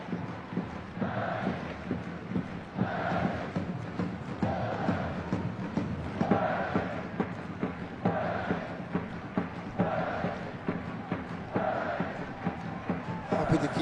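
Stadium crowd at a Kawasaki Frontale vs Shimizu S-Pulse football match, a steady roar rising and falling in rhythmic waves of chanting throughout, with a commentator talking over it.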